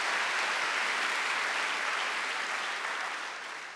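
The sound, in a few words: congregation applause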